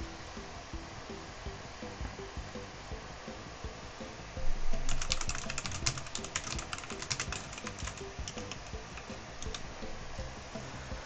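Computer keyboard typing while playing Stumble Guys, a rapid burst of close, crisp key clicks that starts midway and continues in dense clusters over a steady background of game sound.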